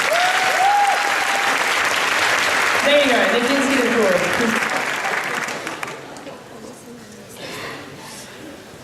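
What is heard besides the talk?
audience applause for Angus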